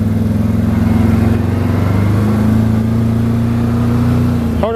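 A 2016 Can-Am Maverick XXC 1000 side-by-side with dual exhaust revs steadily during a ride, its loud, close mid-pitched engine drone holding a constant tone before a brief rise at the very end.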